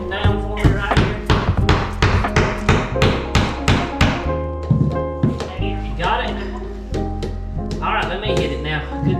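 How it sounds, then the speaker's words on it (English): Repeated hammer blows drive a piece flush in a quick, steady rhythm during a tiny home renovation, loud and close, pausing briefly before resuming, with voices in the background. "Alright, hammer it down flush, hammer it down flush."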